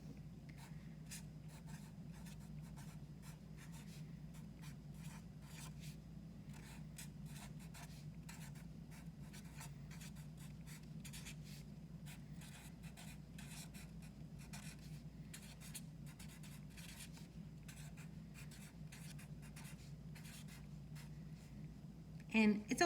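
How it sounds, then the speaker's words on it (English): Pen scratches across a card in close, faint, continuous strokes with short pauses, over a low steady hum, ending in a brief louder knock. "And I'm going to write that in,"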